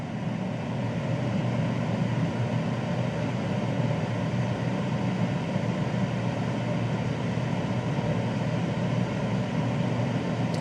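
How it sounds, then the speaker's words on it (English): A steady, loud whirring fan roar from a kitchen appliance runs continuously without change or pause. "So both of these are average noisy air fryers."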